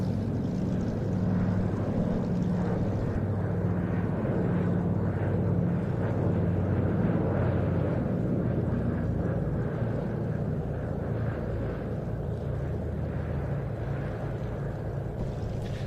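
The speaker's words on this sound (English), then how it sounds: "as you will obviously have gathered from the fact that it's taken off from the airfield here, this aircraft is an amphibian rather than a pure flying boat" A Consolidated Catalina amphibian aircraft climbing away after takeoff from an airfield, a loud continuous droning piston-propeller roar that holds steady without pause.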